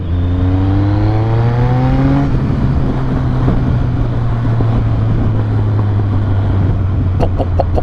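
A Triumph triple motorcycle engine revs up on a motorway, its rising tone climbing and then settling into a loud, steady drone with heavy rushing wind and road noise throughout.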